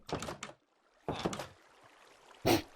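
Wooden door in a Minecraft village, with three short knocking clatters spaced apart, the last one sharper, heard alone and at moderate volume.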